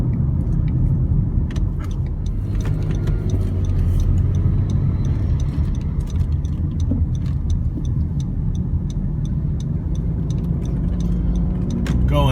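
A 2020 Honda Civic LX sedan climbs a hill at about half throttle, a steady engine drone and road rumble heard from inside the cabin, constant and moderately loud, with faint ticking over it.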